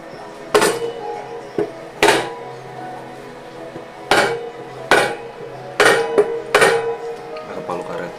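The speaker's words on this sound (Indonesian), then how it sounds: "Pakai palu karet." A rubber mallet strikes a newly bolted part on a Skywave scooter, landing six or so sharp, resonant knocks at uneven intervals close by, with a low steady hum underneath.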